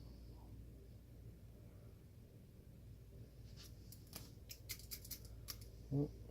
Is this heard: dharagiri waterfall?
no